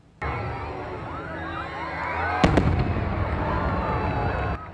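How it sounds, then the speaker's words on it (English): Colorful fireworks bursting over a lake at an annual Aquaboom event in Kingsland, heard as a steady rumbling crackle with a sharp louder bang midway, amid faint crowd noise. "You're watching some of the colorful pyrotechnics from the annual Kingsland Aquaboom event."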